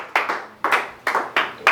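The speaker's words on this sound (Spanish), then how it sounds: "Le podemos dar un aplauso a Dios" A church congregation claps during a Christian sermon, in four or five loud, ragged bursts of hand claps that swell and fade in quick succession, with no talk.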